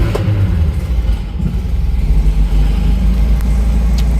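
A classic Fiat 500 engine runs after starting, a loud close low rumble with a brief crank at the beginning and then a steady idle, no talking.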